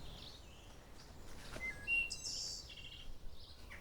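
Faint, distant birds chirp and tweet in short calls over a quiet, hushed outdoor background in the woods.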